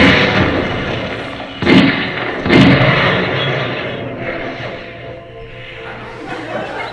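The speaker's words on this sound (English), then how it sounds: "Holy shit, I curved that bullet!" Two sharp, loud gunshots about a second apart ring out over a busy, noisy background with some murmuring, followed by a fading rumble.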